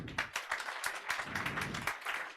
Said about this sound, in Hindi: अरे तो तालियां तो बजा लो